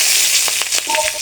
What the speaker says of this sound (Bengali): তেলের মধ্যে দিয়ে দেবো কাঁচা লঙ্কা